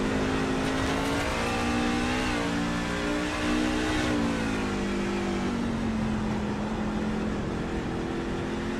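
On-board engine of a racing truck in the Stars & Stripes Truck Series at Mid-Ohio, a loud steady drone rising and falling in pitch through gear changes, continuous and close for the whole stretch.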